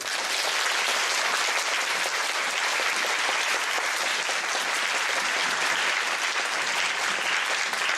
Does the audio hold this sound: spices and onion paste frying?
no